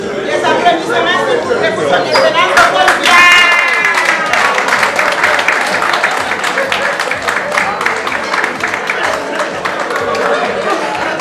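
An assembly at a general meeting applauds as its board is re-elected by acclamation, with clapping mixed with loud crowd chatter and voices throughout, close and sustained.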